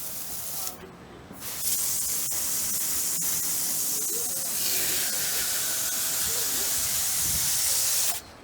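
A water spray hisses steadily while rinsing a vintage window air conditioner outdoors, a loud continuous rushing with brief breaks and shifts in intensity as the nozzle moves, and voices faint underneath.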